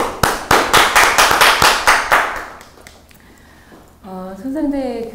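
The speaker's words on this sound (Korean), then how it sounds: "거기에 대해서 내가 신서울 목사님께 박수를 한번 보내드리겠습니다." A small audience in a seminar room at Sindorim Station claps in a brisk, rhythmic burst of sharp, close hand claps that fades out after about three seconds, followed by someone talking.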